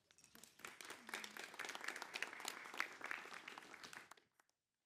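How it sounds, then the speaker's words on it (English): Audience applause for a speaker being welcomed at a festival session, a fairly faint but full patter of many hands clapping for about four seconds before stopping abruptly. "Big round of applause."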